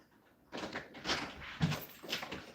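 A door bangs and knocks several times in a home, a series of close, moderately loud thumps and rattles over a couple of seconds, with no talking during the sounds.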